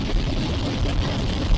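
A Suzuki TL1000R V-twin motorcycle pulls hard in second gear, a continuous low engine roar with heavy wind rush, loud and steady, no speech over it.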